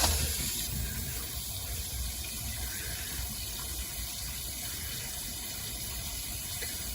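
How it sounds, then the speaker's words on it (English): Water runs steadily down a sewer line pipe with a partial backup at the bottom, making a continuous rushing, gushing wash that stays even and fairly close for the whole stretch, with no talking. "Right now, he's running water."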